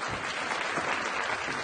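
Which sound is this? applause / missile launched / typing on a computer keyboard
applause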